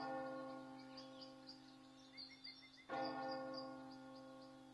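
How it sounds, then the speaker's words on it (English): Church bells ringing in the distance after a night outdoors, a steady sustained peal with harmonic tones that swells louder partway through, with faint insect chirps in the background. "I hear church bells"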